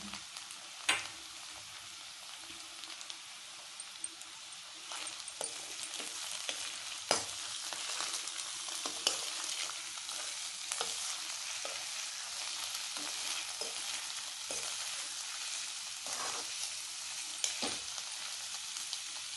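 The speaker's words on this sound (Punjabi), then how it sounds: "ਇਹਦੇ ਵਿੱਚ ਹੁਣ ਮੈਂ ਥੋੜੇ ਜਿਹਾ ਪਾ ਦਾਂਗੀ ਪਿਆਜ਼" Chopped onions fry and are stirred in a pan, giving a continuous close sizzle for about twenty seconds, punctuated by frequent scraping clicks of the stirring utensil, with no talking.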